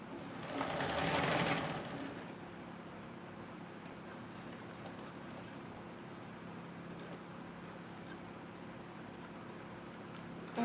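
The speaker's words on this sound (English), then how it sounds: "now I'm going to back stitch" A sewing machine runs a short, loud burst of back stitching, then settles into a steady, quieter mechanical hum close by.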